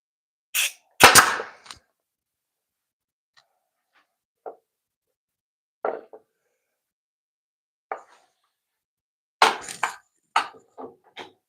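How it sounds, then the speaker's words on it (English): A nail gun fires into wood in a woodworking shop: sharp, isolated bangs, some in quick pairs, with long silent gaps between shots. "Oddly enough, the nail gun seems to be behaving better. I don't think this will shoot all the way through."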